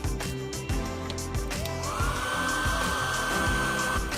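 A hair dryer blows hot air onto a speaker glued inside a case, a steady close whirring hum with a rising high whine partway through, with no talking.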